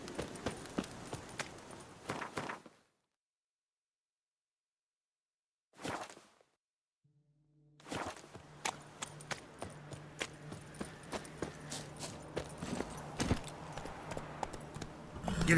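Horse hooves galloping in The Witcher 3: Wild Hunt, Blood and Wine, an irregular patter of hoofbeats with whooshing movement, broken by a few seconds of silence, then resuming steadily over a faint low tone.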